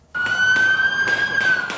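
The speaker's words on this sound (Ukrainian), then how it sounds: "Завивання сирени, постріли у самому серці американської столиці." A police siren wails loudly and close in the streets of Washington near the White House, a steady high tone broken by rapid pulsing bursts, heard alone.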